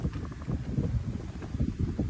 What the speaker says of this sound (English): Sorry it's windy out here today.